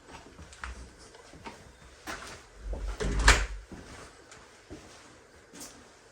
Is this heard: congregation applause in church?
no